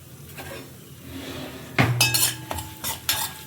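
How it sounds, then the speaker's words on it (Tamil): Metal utensil scraping and clinking in a pan as chana dal goes into hot oil with mustard seeds, curry leaves and asafoetida, quiet at first, then several sharp clanks and stirring scrapes close by. "இப்போ கடலைப்பருப்பை போட்டுக்கலாம்"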